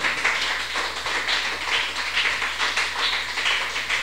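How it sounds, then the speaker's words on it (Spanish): A church congregation applauding together in a dense, continuous wash of hand claps that carries at an even, moderate level with gentle swells and no voices on top. "¿Cuántos le quieren dar un aplauso al Rey de la Gloria?"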